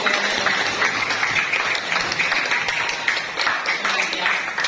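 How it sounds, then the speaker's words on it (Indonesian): Classroom applause from pupils at an Islamic school lesson, a steady dense patter of clapping filling the whole stretch with a faint voice underneath. "terima kasih, beri tepuk tangan ya"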